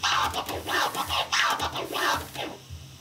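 A DJ repeats a two-click flare scratch on a turntable, with a steady run of rhythmic scratch bursts that ends in a short stop, close and clear with no talking.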